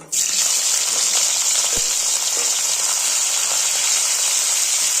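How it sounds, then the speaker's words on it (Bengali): Loud, steady sizzling of fish heads frying in hot oil, a continuous crackling hiss throughout with no voices. "তেল দিয়ে দিয়েছি, কড়াই মোটামুটি পরিষ্কার করে নিয়ে এবার এখানে এই যে কুচিয়ে রাখা ইলিশ মাছের মাথাগুলো এর মধ্যে ছেড়ে দেব"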